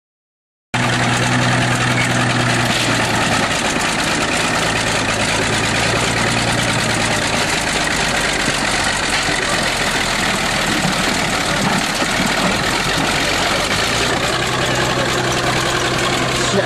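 Bulldozer engine roaring loud and steady, close by, as the machine crushes Dodge and Chevy trucks on a farm, a continuous heavy diesel drone with rough rumbling texture throughout.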